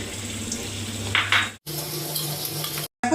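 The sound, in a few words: potato peels frying in hot oil in a wok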